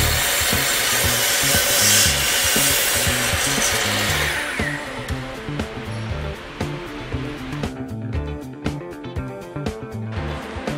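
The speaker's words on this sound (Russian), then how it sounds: "мы предоставляем услугу торцовка материала на качественном оборудовании, которое делает ровный заводской рез." A saw cross-cuts lumber boards, a broad steady rasping roar for about five seconds that then breaks into a series of shorter rhythmic cutting bursts, loud and close with no talking.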